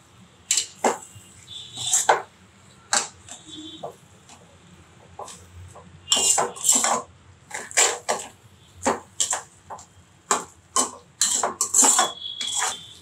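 Pepper chicken masala being stirred in a pot for a Tamil Nadu-style chukka, a spoon clanking and scraping against the metal in irregular bursts, close and fairly loud, with no talking.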